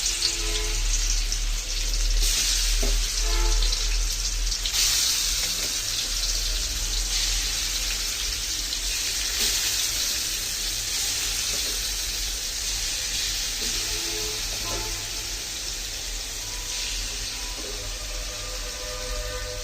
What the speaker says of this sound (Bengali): এখন আমি মাংসটা দিয়ে দিব